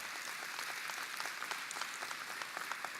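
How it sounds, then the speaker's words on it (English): Applause from a conference keynote audience, a dense, even patter of many hands clapping at a moderate distance, steady for the whole stretch with no voices. "He deserves a great round of applause"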